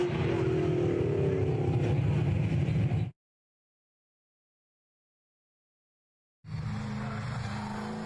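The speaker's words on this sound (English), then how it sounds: "Nothing like some big V8 horsepowers from J.J. Mulrich." A big V8 race car drives on a track at a muscle-car hill event, its engine a loud sustained roar that cuts out to silence for a few seconds and then returns just as strong.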